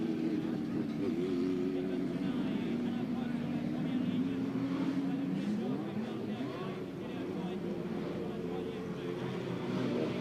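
Formula One race cars, McLarens at the 1988 Monaco Grand Prix, a steady droning engine roar with a pitch sweep around the middle, continuous and fairly loud, while a voice talks over it.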